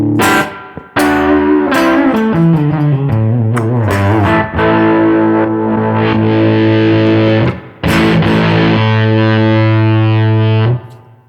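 A heavily distorted electric guitar plays sustained chords and notes through an overdriven amp with its distortion boost engaged, loud and saturated, with brief pauses between phrases.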